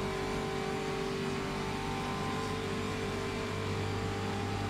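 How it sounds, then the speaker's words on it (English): A steady race car engine drones at a constant pitch throughout a racing video game race, loud and continuous with no clear change in revs and no talking. "Might hear the engine note change in a second as Jernej lifts off the throttle."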